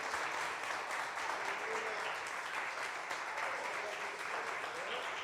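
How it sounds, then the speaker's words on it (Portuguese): A church congregation applauds during a worship service, a steady, dense wash of clapping from many hands that holds level and fairly distant throughout. "Aplauda o Senhor."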